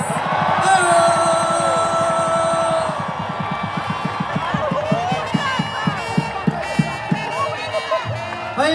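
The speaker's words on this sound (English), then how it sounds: "Boston, give a round of applause for the Dropkick Murphys." A large outdoor crowd at a Boston City Hall Plaza rally cheers and yells for the Dropkick Murphys, a loud sustained roar with steady rhythmic thumping running through it and voices rising above.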